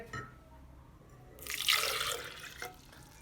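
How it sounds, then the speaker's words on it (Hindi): Water from a glass pours into a blender jug in a steady, splashing stream, starting about halfway through and briefly swelling louder before trailing off. "इसमें हम 1 अदद गिलास पानी का शामिल करेंगे।"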